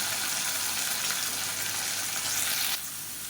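Boiled cauliflower frying in a hot pan for cauliflower rice, a steady close hiss of sizzling oil with faint stirring, the sizzle dropping slightly in the final moments.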